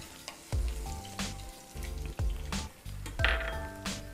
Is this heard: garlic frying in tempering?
yes